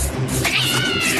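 A cat gives a single drawn-out meow, close and loud, rising and wavering in pitch over about a second with no talk.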